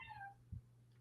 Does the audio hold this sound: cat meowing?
yes